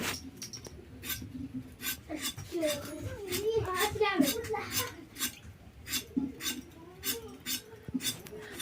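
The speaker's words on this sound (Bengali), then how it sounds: "পটল কাটছি, পটল ভাজা হবে।" Repeated crisp knife strokes chop through a vegetable on a board in an even rhythm, close by, while someone talks underneath.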